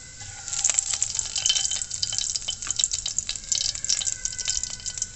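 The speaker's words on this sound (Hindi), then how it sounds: "ऑयल डालने के बाद 1 टेबलस्पून के करीब इसके अंदर मैं सफ़ेद ज़ीरा डालूंगी और इसे 2 से 3 सेकंड के लिए भूनूंगी" White cumin seeds fry in hot oil for a dish of spiced potato slices, producing a dense, crackling sizzle with fast irregular pops, close and steady for several seconds with no talking.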